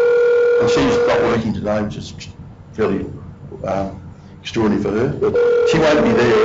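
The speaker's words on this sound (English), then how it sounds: "I'm just ringing my PA in Brisbane" A VoIP desk phone call to Brisbane sounds a repeating electronic ringing tone in bursts, loud and close, with a person talking between and over the rings.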